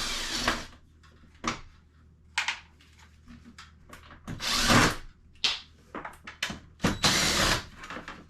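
A power drill whirs in short separate bursts as it backs Phillips screws out of an RV air-conditioner cover, close and fairly loud, with small clicks and handling noises between the runs.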